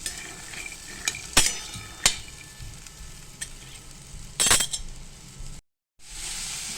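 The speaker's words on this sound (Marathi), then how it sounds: "आपल्याला हे मीडियम गॅसवरती चणे चांगले असे खरपूस भाजून घ्यायचे।" Soaked chickpeas roasting in oil in a pan over medium heat make a faint continuous sizzle, broken by several sharp clinks and scrapes of a utensil stirring against the pan.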